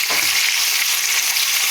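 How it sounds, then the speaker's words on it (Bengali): Pomfret fish frying in oil in a pan, giving a loud, continuous hiss and crackle that stays steady throughout with no voices. "মাছগুলো ভেজে নেব।"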